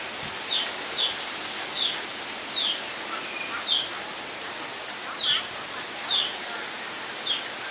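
Steady rain hisses throughout, with a bird chirping briefly at regular intervals above it.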